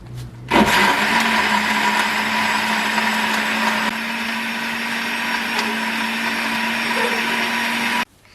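An electric mixer whirs loudly and steadily while beating eggs into a healthy banana cake batter, switching on abruptly and running for several seconds before cutting off.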